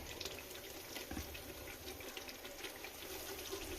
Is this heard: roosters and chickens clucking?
no